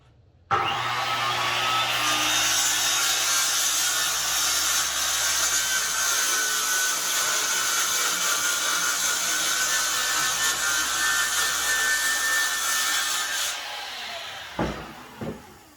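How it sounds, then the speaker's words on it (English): A power saw, its depth set so the teeth just clear the board, cuts wood for a DIY cornhole board, starting abruptly and droning at a steady loud whine for about thirteen seconds before winding down, followed by a couple of knocks. "you need to set the depth of your saw. You want the teeth just sticking down"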